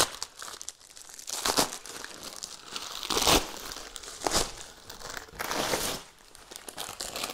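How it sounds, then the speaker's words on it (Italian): A package of travel vacuum storage bags being unwrapped: loud, close plastic crinkling and crumpling in repeated bursts with brief quieter gaps, no voices. "Andiamo a spacchettare."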